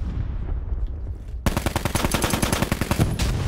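A single sharp sniper rifle shot in the video game Call of Duty Blackout, followed by a rapid string of loud gunfire bursts over a continuous game background.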